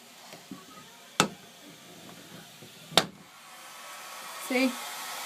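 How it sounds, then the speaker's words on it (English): A hair dryer blows somewhere in a home, a faint steady airy hiss that swells slightly toward the end, broken by two sharp knocks and a brief high vocal sound. "With the hair dryer?"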